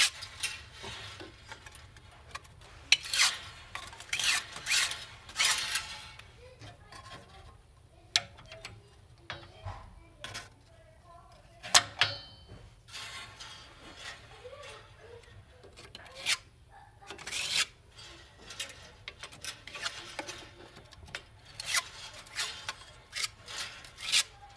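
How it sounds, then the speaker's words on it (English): A tool scrapes and rubs mortar onto fireplace brick around a gas line patch in repeated short rasping strokes, close and uneven, with brief pauses between passes. "And I'm just gonna scrape it on."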